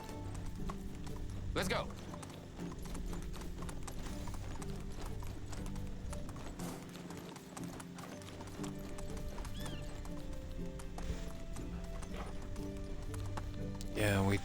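Horse hooves gallop in the video game Medieval Dynasty, a steady clip-clop running throughout with a whinny or two, while a voice speaks briefly over it.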